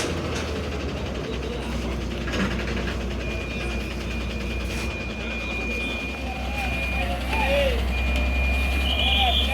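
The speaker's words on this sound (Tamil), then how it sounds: "வண்டி அப்படியே ரிவர்ஸ் எடுக்கட்டும்" A new BS-VI TNSTC government bus reverses at a stop while a steady, high reversing beep repeats over a loud idling engine rumble, with voices murmuring nearby.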